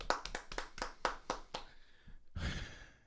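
A few people clap about eight times in a quick, sparse rhythm, close and fairly faint, followed by a sigh and a breathy exhale.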